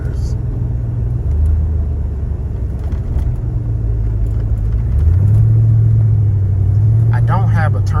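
An LS-swapped 1995 Chevy Impala SS running and driving, with a deep, steady exhaust rumble up close whose pitch drops and then climbs as the engine revs.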